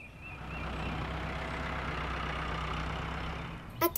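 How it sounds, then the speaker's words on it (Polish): A tractor's heavy engine rumbles steadily at a moderate distance, then a few brief knocks and clatters at the end. "To jest traktor."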